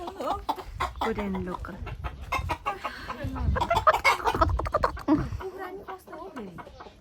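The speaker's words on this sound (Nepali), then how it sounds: "यहाँ लोकल कुखुरा" Chickens cluck and squawk close by, mixed with people talking over them throughout.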